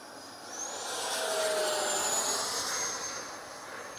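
FMS twin 70mm EDF Su-27 model jet flying overhead, a steady whooshing ducted-fan roar that swells and fades slightly as it passes, with a thin whine above it and no voices.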